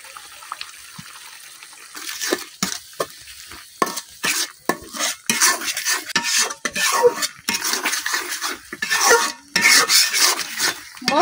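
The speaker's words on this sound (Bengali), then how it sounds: "মশলাটা এখন আমি কিছুক্ষণ কষাই নিলাম" Spice paste of ground coriander, other ground spices and salt fries in a pot while a spoon stirs it, for beef and khichuri in a village kitchen. Scraping strokes come in uneven bursts over a sizzle that gets busier and louder.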